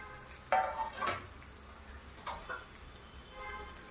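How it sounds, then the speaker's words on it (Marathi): Potatoes being sautéed in a pan over low gas, with quiet scraping and clinking from a spoon stirring them in a few brief bursts against a soft background. "आता याला छान आपण असं परतवून घेऊया"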